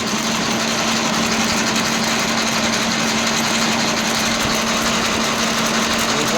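An early 1900s camelback drill press runs under automatic spindle feed, giving a steady mechanical drone with a constant hum and even whirring noise, loud and close without pauses.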